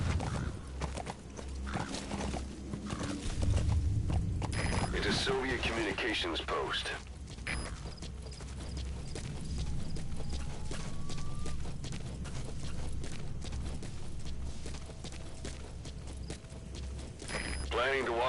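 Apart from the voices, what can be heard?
horse hooves clip-clopping in Metal Gear Solid V video game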